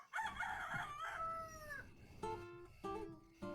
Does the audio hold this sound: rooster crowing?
yes